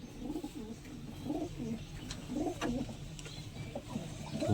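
Fancy crested male pigeon cooing in a series of soft, low, repeated coos over a faint background hum, close by and alone.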